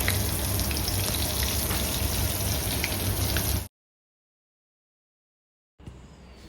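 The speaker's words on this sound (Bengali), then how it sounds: "আর এদিকে দেখো আস্তে আস্তে এবার মাছগুলো আমি ভেজে নিচ্ছি" Fish fry in a pan with a dense, steady sizzle for several seconds; it cuts to silence, then a fainter sizzle returns near the end.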